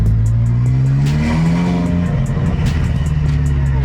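A turbocharged Subaru STI engine revs hard and loud with a rising spool whine, a continuous throaty roar that surges and settles without letting up.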